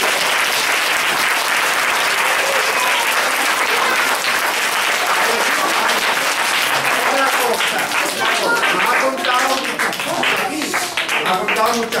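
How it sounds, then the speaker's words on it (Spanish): Loud, dense applause from a large audience fills the hall without a break, with voices talking over the clapping. "Vamos a darle un aplauso muy fuerte."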